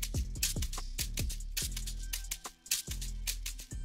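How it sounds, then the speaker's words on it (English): A looping shaker pattern from the Miraculous Beat kit in an Afrobeat production, playing busy rhythmic shakes over a deep, repeating low-end beat, steady and upfront with no voices. "Next, right, we got a shaker loop from the Miraculous Beat kit,"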